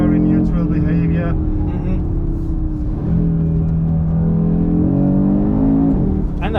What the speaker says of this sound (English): And that 5-cylinder engine, I mean, that's a gem of an engine.